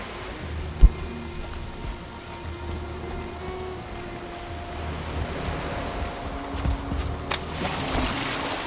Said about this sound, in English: Oh, great, rain.